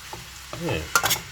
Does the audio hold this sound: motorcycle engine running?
no